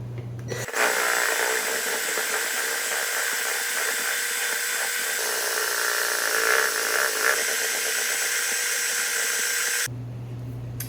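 A drill bit boring into a plastic rain barrel, a loud continuous motor whine with grinding hiss that starts abruptly, holds steady for about nine seconds, then stops.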